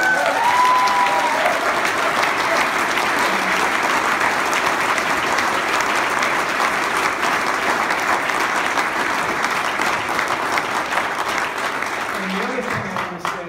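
Sustained audience applause at a chamber community service award ceremony, loud and dense clapping from a crowd that holds steady and fades slightly toward the end.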